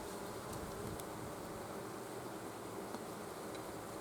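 Bees buzz in a soft, continuous drone close by, with a few faint brief clicks and no voices.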